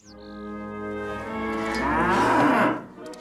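A cow moos long and loud up close during milking, one drawn-out, rising call that swells and then tails off.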